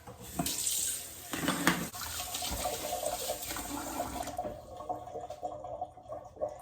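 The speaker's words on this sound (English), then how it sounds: "I'm gonna wash my hands again" Tap water running into a kitchen sink during hand washing, a steady close splashing stream with brief changes as hands move under it, fading toward the end.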